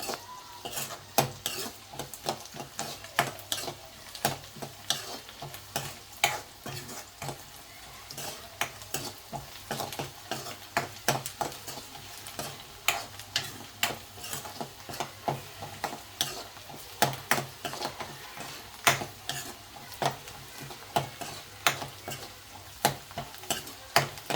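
Mutton keema frying Andhra style in a pan, a steady sizzle broken by frequent scraping clicks as a spoon stirs the meat, moderately loud and close, with no talking.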